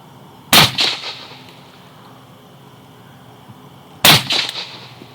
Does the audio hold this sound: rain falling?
no